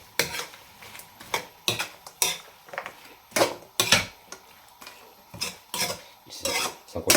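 Shrimp sautéing with tomato, garlic, onion and ginger in a pot for seafood sinigang is stirred with a utensil, giving repeated scraping and clanking strokes in an uneven rhythm over a faint sizzle.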